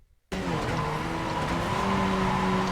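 Loud, sustained tire squeal from a Skip Barber race car oversteering through a bend in iRacing, a continuous screech over the engine that starts abruptly and holds steady.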